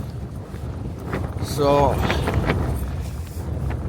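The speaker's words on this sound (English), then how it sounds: "It's never gonna stop, this wind." Strong storm wind at a wild camp in Scotland buffets steadily against the microphone and the surroundings, with someone speaking briefly over the constant roar.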